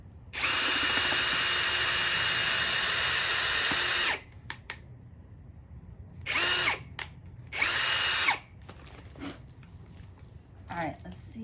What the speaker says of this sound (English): you put it in and you drill a hole and you take it out